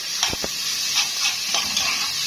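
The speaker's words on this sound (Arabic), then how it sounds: "معايا فلفل بارد وفلفل حار هشوحهم بس ياخدوا لون خفيف" Bell and hot peppers sizzle with garlic in a pan, a steady close hiss of frying with a couple of soft clinks from stirring.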